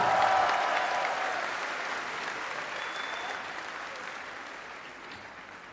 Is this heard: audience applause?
yes